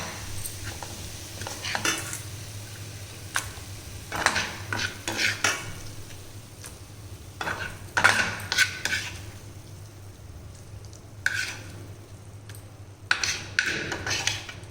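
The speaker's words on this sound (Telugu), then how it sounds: "సర్వింగ్ బౌల్లో తీసేస్తానండి కూర అంతాను" Brinjal curry being spooned from the pan into a serving bowl, with scattered scrapes and clinks of a utensil against metal over faint background hum, coming in short irregular bursts with quiet pauses between them.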